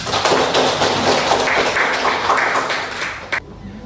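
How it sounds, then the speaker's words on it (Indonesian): Classroom audience clapping during a teaching performance test for Islamic religious education teachers in Indonesia, steady loud hand claps for about three seconds, stopping abruptly with a final tap. "Tepuk tangan buat kita semua."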